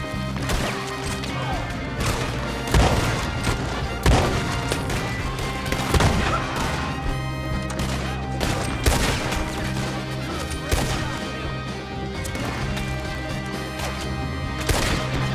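Rapid gunfire from a Red Dead Redemption 2 shootout at Pronghorn Ranch: repeated sharp cracks and heavy booms in a dense, loud, continuous mix with no clear gaps between them.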